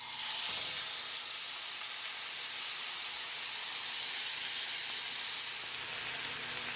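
Kimchi frying in a tablespoon of hot cooking oil in a pan, a steady bright hissing sizzle that stays loud and even throughout with no talking.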